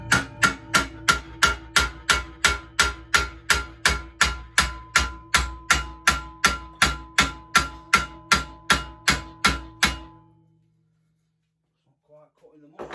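A heavy hammer strikes a bent pit bike part to reshape it, delivering about two dozen loud, ringing metallic blows in a fast, even rhythm that stop abruptly, followed by quiet.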